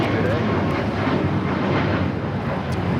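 Alaska Airlines Boeing 737 MAX 9 taking off at LAX, a steady broad jet roar heard from a distance with wind buffeting the microphone, no break in the engine noise.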